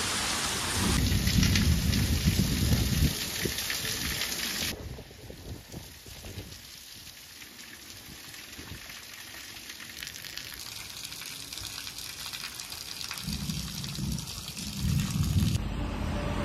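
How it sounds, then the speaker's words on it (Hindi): Heavy rain pours down during a thunderstorm on the day of the Ranchi Rath Yatra, a dense steady hiss that swells loud at the start and end. A low rumble of thunder sits beneath, and no one speaks. "मैं दिखाता हूँ बारिश कैसा हो रहा है"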